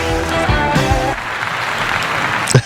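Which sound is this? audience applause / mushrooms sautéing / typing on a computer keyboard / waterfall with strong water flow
audience applause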